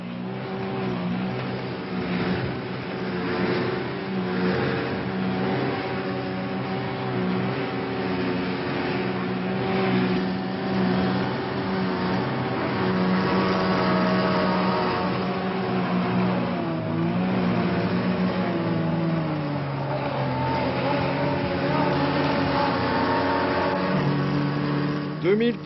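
Racing car engines at a 1969 world championship endurance race drone continuously at a steady, sustained pitch, with a gradual rise in tone toward the end, broadcast-quality and slightly muffled.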